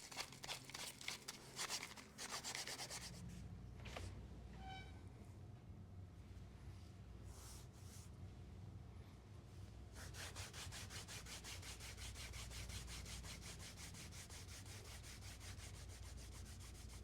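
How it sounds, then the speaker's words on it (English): The edge of a leather belt is sanded with continuous close rasping strokes, rough and steady throughout, pausing briefly in the middle before resuming evenly. "this was a good opportunity to get this sanded up a little bit here before the burnish"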